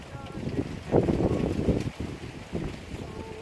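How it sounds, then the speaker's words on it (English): Strong wind buffets a microphone outdoors at a rural Ugandan village home, a rough, gusty low rumble that swells and drops unevenly over a few seconds, with faint voices mixed in. "there's a lot of wind"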